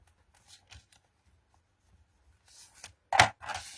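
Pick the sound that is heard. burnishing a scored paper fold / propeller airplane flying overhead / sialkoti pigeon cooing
burnishing a scored paper fold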